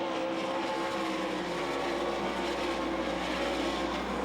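Sprint cars race on the dirt oval at the Knoxville Nationals, a steady loud engine roar filling the clip without a break as the field runs through the turns.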